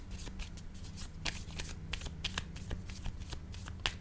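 A deck of playing cards is shuffled up close, a run of quick crisp riffles and flicks in an uneven rhythm, with a low steady hum underneath.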